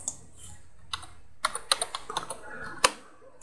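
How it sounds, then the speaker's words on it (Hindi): Quick keystrokes on a computer keyboard, a short burst of close, crisp clicks as a word is typed, ending with a single firmer tap of the enter key. "मैं सिंपली यहाँ लिखूंगा टाइगर और एंटर की को हिट कर दूंगा।"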